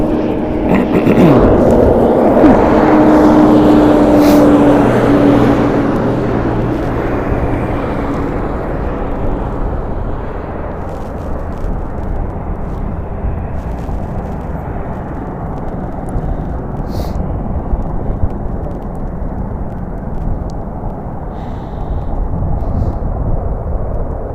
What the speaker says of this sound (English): an Airbus helicopter H-130s. I do see one hovering in the distance